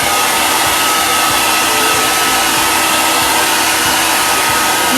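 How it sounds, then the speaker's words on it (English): A blow dryer on its cool setting blasts continuously and loudly while drying chalk paint, a steady even whoosh with no pauses. "I'm going to go ahead and hit it with the cool blow dryer"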